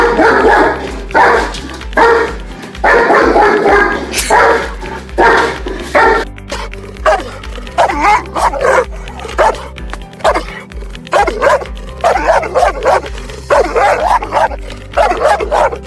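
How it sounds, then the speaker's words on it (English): German Shepherd and Cane Corso barking in turn, loud and close: a run of deep, powerful barks with some yips and whimpers, then a second series of heavy barks in steady bursts. "Powerful and loudest bark. Let's hear it first and we'll decide accordingly."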